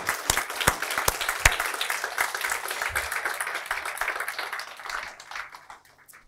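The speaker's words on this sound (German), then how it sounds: "geben wir Jesus einen Applaus, er ist unser Hirte" A church congregation claps in applause for Jesus during a service, a dense burst of many hands that holds steady and then thins out and fades over the last second.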